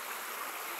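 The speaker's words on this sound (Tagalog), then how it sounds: "Sapa na ito." A shallow creek runs over a rocky bed of stones rather than mud, making a steady, close rushing and babbling wash with no pauses.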